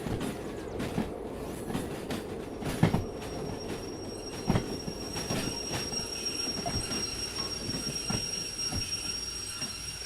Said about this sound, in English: Could be a long train.